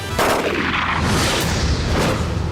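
Police gunshots in a Chinese time-travel drama, a burst of loud, booming gunfire that continues with echoing reports over about two and a half seconds, with no speech.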